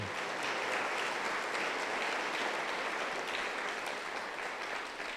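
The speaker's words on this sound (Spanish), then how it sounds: "Dele un fuerte aplauso contento para Jesús." Vigorous congregational applause in a Pentecostal church, a dense, even roar of many hands clapping that holds steady throughout and eases slightly at the close.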